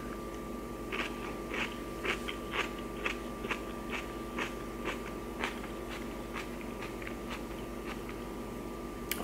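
Someone bites and chews crunchy, garlicky kimchi up close: a steady run of crisp crunches about every half second over a low, constant background hum.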